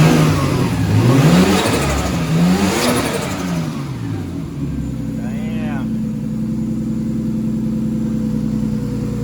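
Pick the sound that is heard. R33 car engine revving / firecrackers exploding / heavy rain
R33 car engine revving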